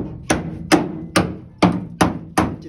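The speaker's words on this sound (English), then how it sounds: "just hammer that shit." Six sharp metallic hammer blows on a bent rear body mount of a 1963 Chevrolet Impala convertible, evenly spaced about half a second apart, each ringing briefly before the next strike, close and loud.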